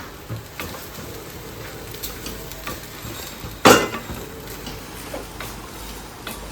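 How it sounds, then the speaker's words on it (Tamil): Lemon rice being stirred and mixed in a pan, giving a soft steady scraping and shuffling with a brief louder scrape or clink near the middle, close by and with no voices. "எலுமிச்சை சாதம் இப்போ அப்படியே நல்லா மிக்ஸ் பண்ணிக்கலாம்"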